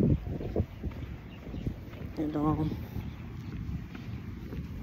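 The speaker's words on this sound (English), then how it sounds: "Sorry about the wind." Wind buffets an outdoor microphone in a steady low rumble and roar. A voice comes through faintly underneath.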